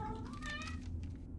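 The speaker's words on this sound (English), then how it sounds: "the cat wants attention" A cat gives one drawn-out, close meow that rises and then falls, with no talk.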